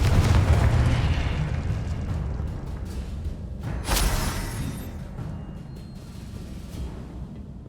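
A blasting-spell explosion in Hogwarts Legacy erupts with a loud, deep boom, followed by a sharp burst of debris and a softer secondary blast amid rumbling magical combat.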